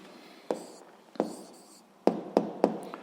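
A pen writes out an answer by hand on paper, giving a few short scratchy strokes spaced across the moment, close and quiet with no talk.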